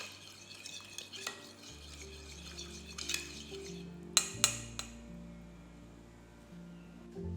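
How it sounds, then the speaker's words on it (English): A spoon stirs seafood salad dressing with palm sugar in a bowl, making soft, faint swishing and scraping with a few sharp clinks of utensil against the bowl, with quiet background hum. "Mix everything together till all the palm sugar is dissolved"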